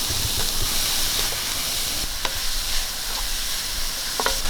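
Cluster beans tossed with onion, chilli, turmeric and salt are stirred in a hot pan, giving a steady sizzle and hiss, with scattered scraping clicks from the spoon close by and no talking.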